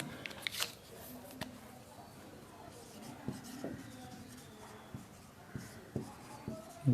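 Chalk or marker writes on a board during a lesson, soft scratchy strokes and light taps scattered across a quiet room, with faint speech in the background.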